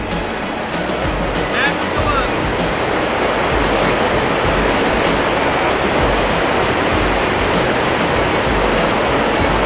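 The Raven Fork creek in Cherokee rushes heavily around a fishing spot, a loud, steady broadband roar of churning water that fills the whole stretch without a break.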